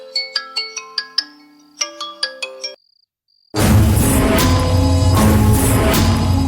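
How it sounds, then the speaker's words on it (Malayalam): A phone ringtone for an incoming call from a doctor plays a bright, rhythmic run of plucked melodic tones, stops briefly, then gives way to loud, dense background noise. "ഈ സമയത്ത് ഡോക്ടറുടെ കോൾ പ്രതീക്ഷിക്കുന്നില്ലല്ലോ"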